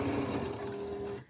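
Sewing machine stitching binding onto a potholder, one continuous close motor hum that cuts off just before the end.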